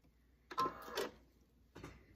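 A sewing machine stitches down a scalloped binding along a quilt edge, running in two short bursts of mechanical whirring separated by a pause, close and fairly quiet.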